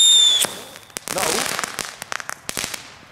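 Leftover consumer fireworks going off outdoors: a brief whistle gives way to a loud bang, then scattered crackles and sharp pops keep rattling at close range, with a voice briefly in the mix.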